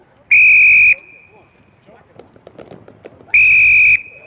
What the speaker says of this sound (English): When I blow the whistle, you run